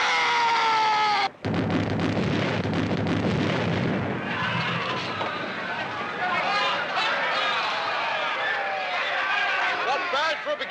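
A broadside of cannons thunders from a pirate ship in a Caribbean swashbuckler setting: a sharp blast cuts through the din, followed by sustained roaring rumble and clatter, with shouting voices and commotion continuing underneath.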